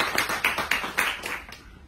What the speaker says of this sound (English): so I think big applause to Rehan